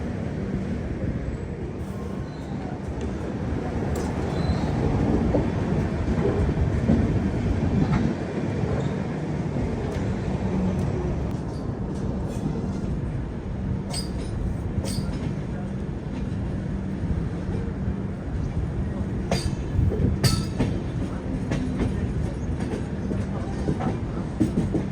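The Ajmer to Durg weekly express train rolls along, heard from inside as a continuous rumble with rhythmic clickety-clack of the wheels and occasional sharp clanks and squeals.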